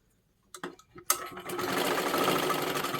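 A sewing machine runs a double line of stitching on silky fabric, starting after a few soft handling knocks and then humming steadily and fairly loud, with no talking.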